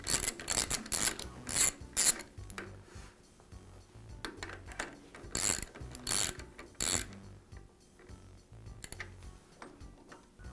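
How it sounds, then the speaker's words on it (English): Metal nut being turned onto a Jet drill press spindle, giving a series of close, irregular metallic clicks, scrapes and ratcheting taps with brief pauses, no talking. "Now I'll place the second nut onto the spindle. And I'll tighten it up against the first."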